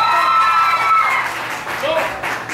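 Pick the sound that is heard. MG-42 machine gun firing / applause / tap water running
applause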